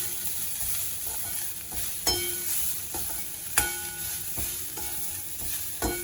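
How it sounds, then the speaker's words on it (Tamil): Onions sizzle in a pan while tempering for South Indian coconut rice, a steady soft fry broken by sharp scrapes and clacks of a spoon stirring at irregular intervals; no talking. "வெங்காயப்பொடி போட்டு நல்லா வெள்ளமாக சேர்ந்து நல்லா ஒட்டா மாதிரி வதங்கணும்."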